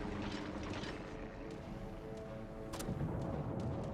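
Battleship guns in a World of Warships naval battle boom and rumble continuously, dense heavy firing with a sharp report near the end, no talk.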